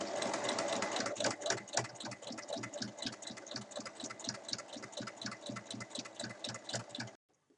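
A sewing machine stitches the corners of a fabric basket, running as a fast, steady, close-up stitching rhythm for about seven seconds before stopping abruptly.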